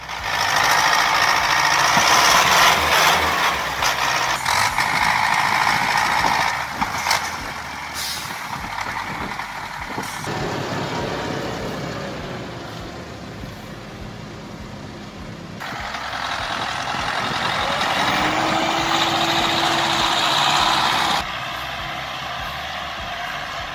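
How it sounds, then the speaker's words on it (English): An MTZ 82 tractor towing a trailer labours through mud in harsh weather, its engine droning loudly and steadily, rising and easing as it strains, with mechanical clanks and no voices. "let's witness the MTZ 82 plus 2 trailer struggling through the mud due to the harsh weather conditions."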